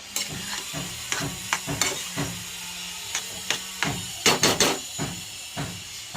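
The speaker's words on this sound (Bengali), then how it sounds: "আমি এটাকে নাড়াচাড়া করছি।" Boiled spinach is stirred in a pan, with repeated sharp knocks and scrapes of a spatula over a faint, low sizzle and no voices.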